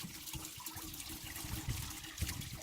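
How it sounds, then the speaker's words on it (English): Water running and splashing through the coolant system of a Mercedes Sprinter van during a coolant flush, a steady gushing trickle with occasional louder splashes, heard up close with no talking. "I'm just going to run enough water so that if there is any antifreeze in it, it's dilute enough anyway"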